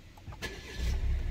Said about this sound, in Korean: 508 차량 시동 영상.